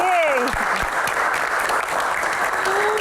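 Studio audience of university students clapping and cheering briefly, loud and steady, with a host's voice over the start.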